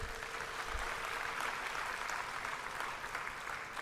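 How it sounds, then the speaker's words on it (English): Steady, dense applause from a retreat audience in a hall, a continuous wash of many hands clapping at even loudness throughout, with no voices over it. "Can we have another very big round of applause?"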